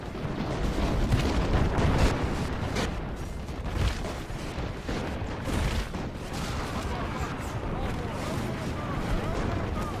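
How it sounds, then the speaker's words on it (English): Sustained musket volleys from arquebusiers in Medieval II Total War, a dense crackling roar of overlapping shots rising and falling over ten seconds, with someone talking over the gunfire. "the arquebusiers are now shooting"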